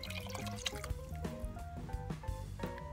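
Three cups of water pour into a Farberware pressure cooker holding taco soup, a quiet run of liquid splashing and dripping with small plops, close by and soft.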